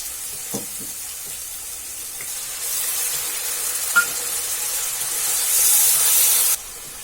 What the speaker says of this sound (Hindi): थोड़ा पानी ऐड करना है इसमें